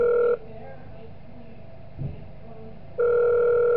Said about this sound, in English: Okay, we get a phone call.